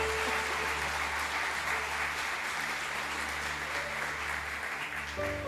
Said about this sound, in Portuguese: Você pode aplaudir Ele, dando a Ele a honra?